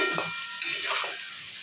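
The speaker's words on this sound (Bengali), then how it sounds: "আলু কচু প্রায় ভাজা ভাজা হয়ে এসেছে।" Chunks of potato and taro fry in hot oil with a steady, close sizzling hiss and a few soft stirring scrapes through a short stretch.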